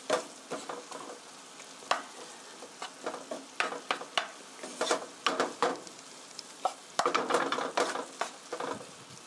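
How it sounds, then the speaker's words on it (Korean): Soy sauce stir-fried in a pan for homemade jjajang black bean sauce, with a steady sizzle broken by repeated scraping and stirring strokes of a utensil against the pan, close and alone. "이렇게 간장을 볶아주세요."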